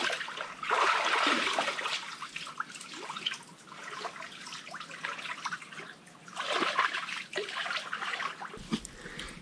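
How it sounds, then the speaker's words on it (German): Water splashing and trickling during an outdoor bath at sunset, with irregular pours and splashes rising and falling in bursts over a steady watery hiss, fairly close and with no talking. "ich muss heute noch duschen, baden."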